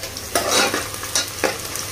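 Onion pieces sizzle and fry in a pan for a mutton curry, giving a close, steady hiss broken by a few sharp scraping stirs.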